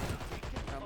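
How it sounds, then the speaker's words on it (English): Shotgun blasts from the online shooter game Dirty Bomb, a rapid run of heavy booming reports packed into under a second, loud and close amid dense game noise. "Definitely a very realistic shotgun."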